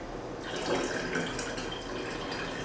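Cold water from the freezer poured into a container of green iced tea, a steady close trickle and splash lasting a couple of seconds.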